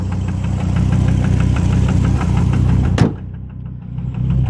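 A knocking Volvo engine with low oil pressure runs to warm up, close and loud, with a steady rhythmic tapping. A brief sharp transient near the end is followed by a quieter stretch as the running continues.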